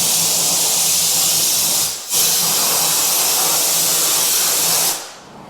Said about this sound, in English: now we have to go and blow it off. So we have our little trusty little air nozzle here.